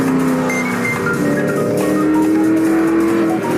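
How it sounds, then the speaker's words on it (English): A Ford GT supercar engine revs and pulls hard, loud and continuous with a sustained droning tone throughout, alone with no speech. "This is the Ford GT supercar."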